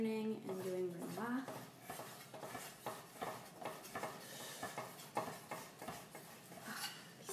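A Zwilling knife chops brunoise on a cutting board in a quick series of sharp, uneven taps, close and crisp, while a person talks over the first second.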